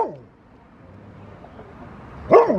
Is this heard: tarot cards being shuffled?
no